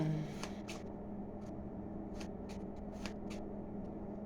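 A deck of aviator playing cards being handled: a string of quick, soft riffles and snaps, some clustered in pairs, close and fairly quiet over a steady low hum, with no talk.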